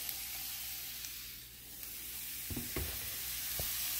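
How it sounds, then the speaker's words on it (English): Peppers sizzling in a frying pan for beef chili, a faint steady hiss with a few soft stirring scrapes near the end, close and without talk. "Let's go ahead and get the peppers in."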